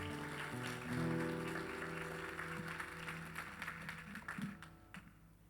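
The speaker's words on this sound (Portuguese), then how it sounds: "Pode aplaudir ao Senhor." A church congregation applauds in a dense, steady wash of clapping that carries along with sustained music, staying fairly loud before thinning toward the end.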